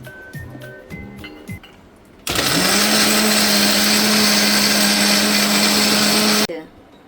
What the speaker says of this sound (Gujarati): મિક્સરમાં ક્રશ કરી દઈશું.